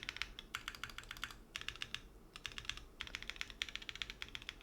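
Typing on a Cherry MX Black mechanical keyboard, heard as quick bursts of close, crisp clacks in rhythmic clusters with short pauses between them.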